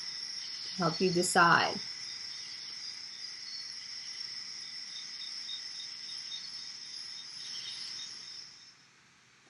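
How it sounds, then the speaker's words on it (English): Steady, continuous cricket chirping drones at an even level throughout, with a brief spoken word near the start. "You're right, it's the sound of crickets."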